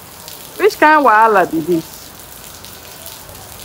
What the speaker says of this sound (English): This rain is spoiling things for us. It has been raining since morning.